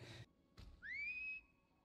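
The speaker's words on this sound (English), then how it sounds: "I would think a whistle would be kind of obvious." Two short bursts of noise, then a clear rising whistle that settles into a steady held tone, a signal whistle in an animated show, heard alone.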